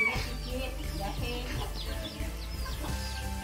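Several chickens on a village poultry yard cluck and chatter close by, short repeated calls overlapping in an uneven rhythm, with faint voices in the background.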